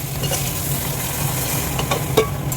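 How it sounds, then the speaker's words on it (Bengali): Water lily stems tossed with spices in a pan, a continuous low sizzle with scraping stir strokes and a sharper clink near the end, close and fairly loud. "দিয়ে নেড়ে নেড়ে মশলা দিয়ে দেবো, দিয়ে ভালো করে নেড়ে নেবো।"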